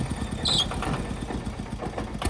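A 2010 KRT 140 plus ride-on tractor with a single-cylinder 14 hp engine idles nearby in a steady, rhythmic chugging knock at moderate volume.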